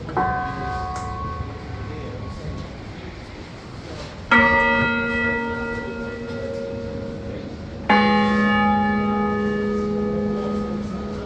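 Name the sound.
National Carillon bells playing Westminster chimes, Canberra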